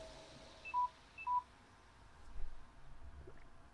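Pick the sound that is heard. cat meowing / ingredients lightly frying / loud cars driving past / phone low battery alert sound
phone low battery alert sound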